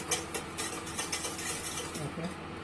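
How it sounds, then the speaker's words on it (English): Gelatin dessert mixture stirred in a pot at a boil: soft, repeated scraping and light clinks of a utensil against the pot, fairly faint, in an even rhythm. "Stir it nicely."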